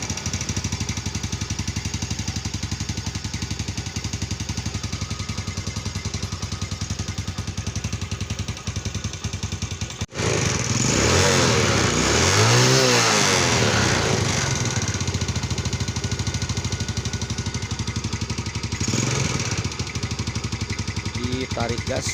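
A Yamaha Jupiter/Vega motorcycle engine idles roughly, then revs up with a harsher, louder rasp before settling again, heard close throughout, with someone speaking over it.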